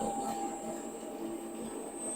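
A Famag IM-20 spiral mixer runs with its lid off, giving a steady electric motor whir and hum with a high whine above it, close and unbroken for a couple of seconds, no talk.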